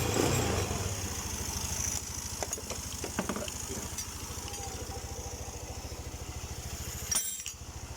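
A Honda Scoopy scooter with its air filter removed runs unevenly while being tuned, a close, steady low engine drone with slight sputtering pulses and a brief metallic clink near the end.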